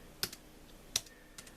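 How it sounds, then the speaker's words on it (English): A few quiet, sparse keystrokes on a Microsoft Universal Folding Bluetooth Keyboard, three or four separate clicks spaced out, close and faint with no talking. "Let me type something on the keyboard."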